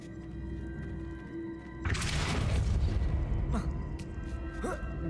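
A Depulso spell strikes a block in Hogwarts Legacy. After a quiet hum, a sudden booming burst with a rumbling, crumbling tail follows, then a few fainter clicks and whooshes.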